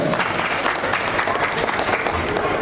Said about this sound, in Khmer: បងដែលមានឈ្មោះ លឹមគីត្រុនដែលបងទូបានចំណាត់លេខ2សូមអបអរសាទរ